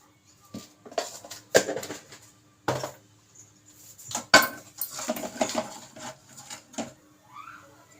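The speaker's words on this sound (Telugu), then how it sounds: "ఇప్పుడు దీన్ని పప్పు గుత్తెట్టి మెదిపేసుకుందాం" Dal masher pressing cooked chicken curry in a pot, giving irregular clacks and soft squelching knocks in short bursts, close and moderately loud.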